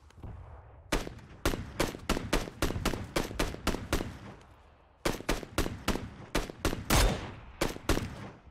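Loud, close video-game gunfire aimed at a trike comes in two rapid volleys of sharp, evenly spaced shots, with a short break between the bursts and no voices.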